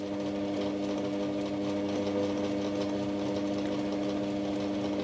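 A mini lathe driven by a converted DC treadmill motor runs steadily with an empty chuck at about 300 RPM, giving a continuous whirring, humming drone that stays even and moderately close with no talking.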